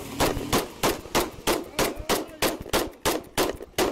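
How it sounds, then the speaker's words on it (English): A police deputy fires a pistol repeatedly, about a dozen sharp, loud gunshots in a fast, evenly spaced string, each cracking out with a short ringing tail. "A guy tries to shoot her, she mag dumps him."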